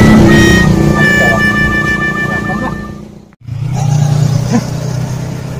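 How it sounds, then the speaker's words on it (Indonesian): A friend's car pulls up loud and close, its engine roaring steadily, dipping briefly to near silence, then surging back with a rumbling drone. "Kayak mobil kawan turun nih."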